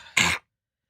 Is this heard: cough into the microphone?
yes